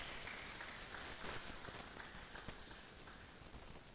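Sustained audience applause at a university valedictory lecture for a veterinary professor, a steady dense patter of many hands clapping at moderate distance throughout.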